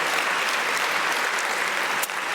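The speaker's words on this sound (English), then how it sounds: "And that is an applause line" A gala audience applauds steadily, a dense wash of many hands clapping at even volume with no voices over it, briefly dipping near the end.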